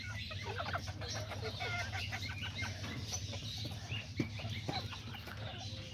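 Hens and a small Azteca rooster cluck together in a faint, busy farmyard chorus over a low steady hum, with scattered sharper calls throughout.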